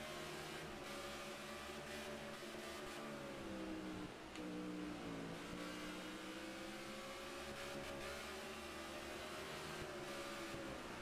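A NASCAR stock car engine in NASCAR '15 racing on a road course: continuous loud engine drone whose pitch climbs and falls as the throttle is worked through shifts and corners, alone without talk.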